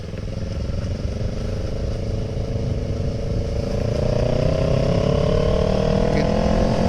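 A Kawasaki ER6N motorcycle engine hums steadily while riding and gradually rises in pitch as it accelerates. Wind rush sits close over the continuous engine drone.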